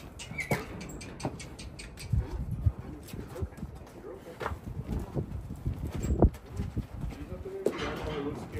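A rescued Belgian Draft horse gelding shifts about nearby, with irregular hoof thumps and scuffs under soft handling noise while people talk close by.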